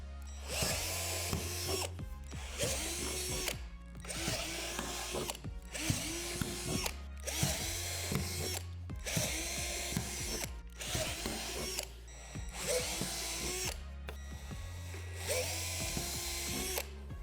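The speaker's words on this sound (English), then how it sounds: "You'll also drill out the 9 divots on this deck panel as well." A power drill bores out divots in a Lifetime Adventure Castle playset deck panel, whirring in roughly eight close, loud bursts separated by short pauses, with no voices.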